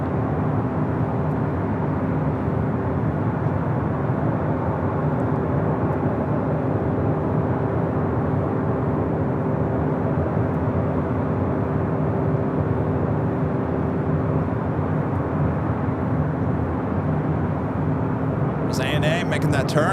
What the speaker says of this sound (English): 767-300ER, short final for 24 right. Also seeing on the pond, the Dreamliner heading up for a north side takeoff.